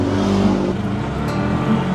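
Cars pass along a busy road in the morning with a loud, steady rumble of engines and tires close by, with no voices.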